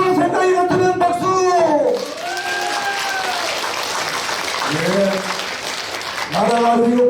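A crowd at an emergency fasting prayer rally claps in a steady wash of applause, with someone speaking loudly through a microphone before and after, and brief calls over the clapping.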